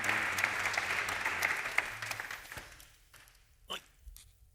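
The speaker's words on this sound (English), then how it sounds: "A big applause." A summit audience claps loudly and steadily for a few seconds, then the applause thins out into scattered claps and fades.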